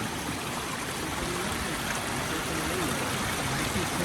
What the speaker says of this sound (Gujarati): અને આ અમારી સોસાયટીનું પાણીનો નિકાલ છે.